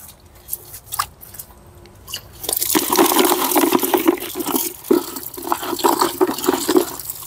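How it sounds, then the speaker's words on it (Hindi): Cut turmeric being washed by hand in a tub of water: a few faint knocks at first, then continuous loud sloshing and splashing with irregular surges close by, and no talking. "लेने के बाद हम इसको पानी में धोते हैं"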